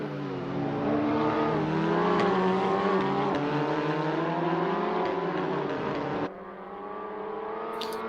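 Race car engine in Assetto Corsa, a Cyan Racing Lincoln touring car in a 2019 WTCR South Africa race, revs loud and steady with rising pitch, then drops abruptly on a gear change and carries on slightly quieter.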